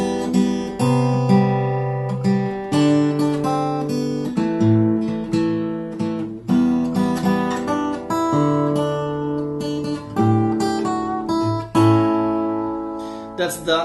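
Guitar plays the second verse of a song from Frozen as a plucked melody with chords, clear close notes ringing in a steady phrase with no talking.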